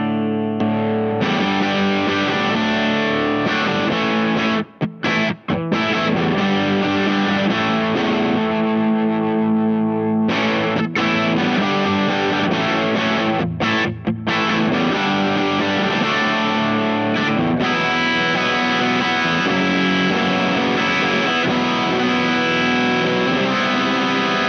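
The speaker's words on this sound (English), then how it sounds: "Now, this is the PureSalem Guitars Cardinal." A PureSalem Cardinal electric guitar with vintage-style, lower-output silver humbuckers, played through a Benson Preamp, rings out loud and slightly fuzzy in sustained chords and riffs with a couple of short breaks, and no voices.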